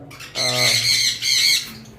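Green Fischer's opaline lovebirds give a loud, continuous burst of close, shrill squawking chatter lasting over a second, with a quieter call trailing after.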